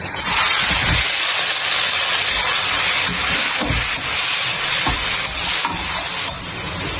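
Taro leaves hit hot mustard oil with browned garlic, setting off a loud, sustained hiss and sizzle that stays dense and close for the whole stretch, with occasional sharper spits.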